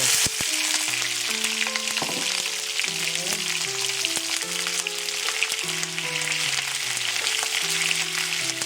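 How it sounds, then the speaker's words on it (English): Cumin seeds and onions frying in oil for a bhindi pyaz masala, a soft continuous sizzle running beneath louder background music with a steady melody. "So I'm adding like a teaspoon of cumin seeds, and then I'll add some onions."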